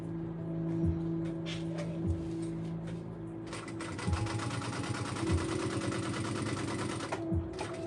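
A sewing machine stitches a garment in short bursts, with a rhythmic mechanical chatter, a steady motor hum and occasional clunks. A faster, denser run comes near the middle.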